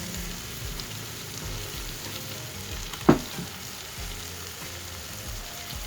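Meat sizzles steadily in a hot pan as it is added for a potato and meat sauté, a close crackling fry. A single sharp clack lands midway through. No one speaks.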